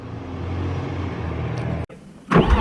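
A BMW E36 drives past with a steady engine drone, then cuts off abruptly before a brighter burst of noise at the end.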